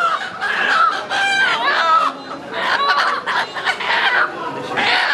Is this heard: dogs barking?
no